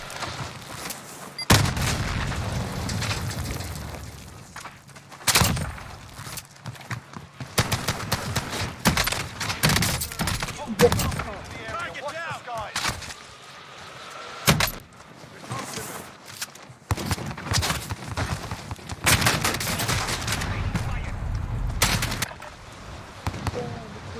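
Gunfire from the video game Call of Duty Warzone sounds in irregular bursts and single sharp reports, with dull booms and quieter stretches between them, mixed with game sounds and some voices talking.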